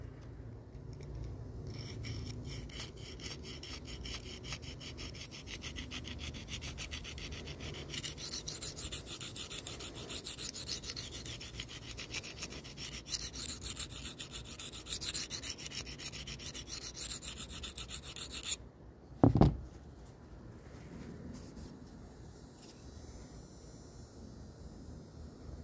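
A SPY27 Manix knife blade is drawn across Venev resin bonded sharpening stones in steady, continuous rasping strokes, close and fairly loud, with a brief sharp knock near the end followed by quieter scraping.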